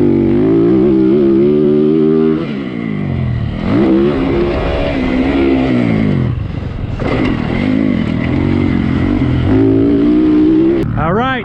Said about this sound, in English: Tony riding Oni's bike